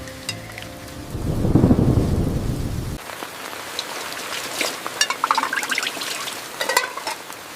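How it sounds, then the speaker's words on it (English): A deep rumble of thunder rolls up, then heavy rain patters and drums on a taut rooftop tent overhead, close and steady with scattered louder drops. "The perfect morning, rain on the roof"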